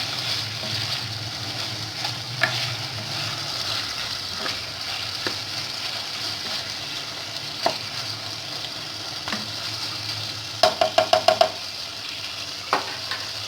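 Chicken boti filling with capsicum and green coriander sizzles softly in a pan while a spoon scrapes and stirs, ending in a quick run of clinking taps against the pan.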